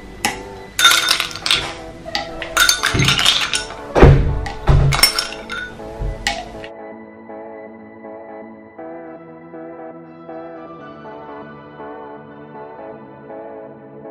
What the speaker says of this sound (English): So I'll go ahead and put my ice cube.